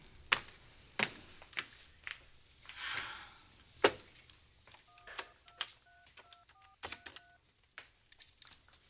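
A phone being dialed in a quiet room: a series of sharp button clicks, then a quick run of paired dialing tones, the presses spaced unevenly and heard up close with no voices.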